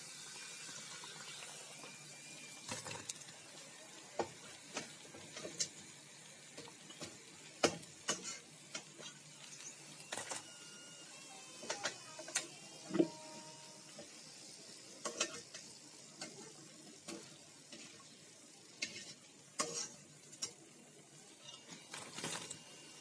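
Cornflour-coated noodle rolls fry in oil until browned and crisp, giving a low, steady sizzle broken by scattered pops and light utensil clicks, with no voices.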